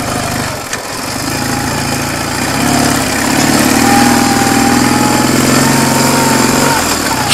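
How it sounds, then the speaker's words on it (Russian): A car with non-studded winter tyres is stuck on packed snow, its engine droning and rising in revs as the wheels spin, a loud steady mechanical roar close inside the cabin. "Вот видите, ребят, я прям буксую, да?"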